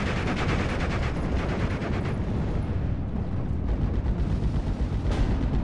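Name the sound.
50 cal machine gun fire in video game Steel Division: Normandy 44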